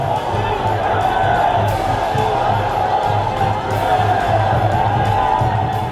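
A huge, dense crowd gathered outside a BJP office in Bihar celebrates with a continuous roar of cheering and shouting, loud and close throughout without pause.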